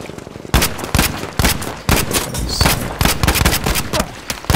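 Battlefield V gunfire with sniper shots, loud sharp cracks and rapid bursts close by, irregular volleys repeating across the whole stretch with a faint gap at the start.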